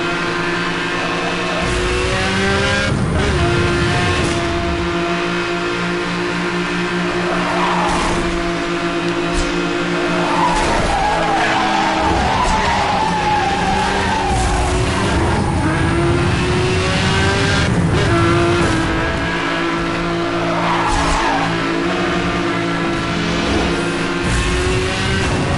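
Race car engine in Need for Speed Hot Pursuit Remastered, revving and surging continuously at loud volume, rising and dropping as it accelerates and brakes, with steady engine drone throughout and no talking.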